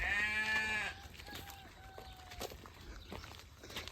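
Sheep on a farm in Oaxaca bleat loudly at the start while being fed, followed by scattered footsteps, rustling and a few fainter animal calls nearby.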